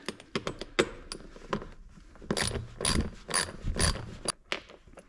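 A wrench or ratchet works a 10mm nut off the stock seat of a 2023 Kawasaki Ninja 400, giving close, uneven bursts of metallic clicking and ratcheting with short pauses between, and no talking.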